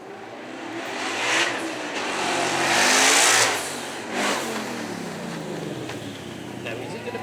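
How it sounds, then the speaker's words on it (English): A 900-horsepower Ford Mustang roars at the Beaulieu Supercar Weekend, revving in loud surges that peak around the middle and then ease, with voices heard over the engine. "900 horsepower in our Mustang."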